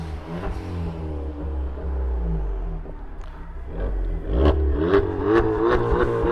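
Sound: car engine revving with open exhaust

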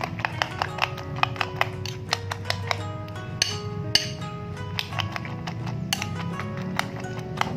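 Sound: whisking eggs in a bowl

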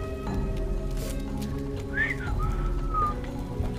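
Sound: enemy whistling in Halo 3 ODST video game

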